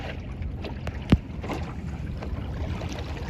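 Small sailboat under sail on Yarra Bay with its electric prop switched off: steady wind buffeting and soft water wash against the hull, with one brief knock, no voices.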